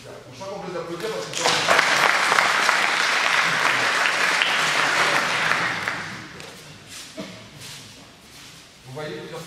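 Applause for judokas at an international judo training camp in France breaks out in a hall, a few seconds of steady clapping that fades out, with voices talking before and after.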